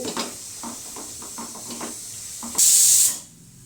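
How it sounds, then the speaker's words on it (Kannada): A pressure cooker on the stove lets out a loud, sharp burst of hissing steam near the end after some quieter clinking and background kitchen noise. "ಬಾಜು ನನ್ನ ಮಗನಿಗೆ ಕುಕ್ಕರ್ ಇಟ್ಟೀನಿ"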